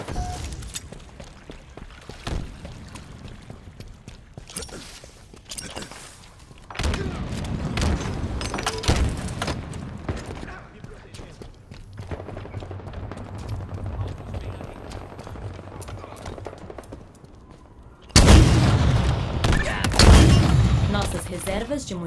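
Gunfire in the multiplayer video game Halo Infinite: bursts of shots and heavy booming blasts come in loud clusters between quieter stretches, with a sustained hum in the middle and a loud barrage near the end.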